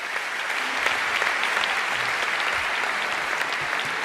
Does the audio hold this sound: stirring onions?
no